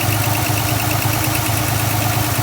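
A 1966 RV engine idles after a starter repair, a loud, close, steady rumble with an even pulsing beat and no talking.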